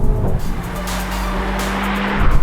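A 2023 Renault Megane RS Ultime engine roars close by, revving hard and climbing in pitch toward its 7,000 rpm cutout with a loud, continuous drone.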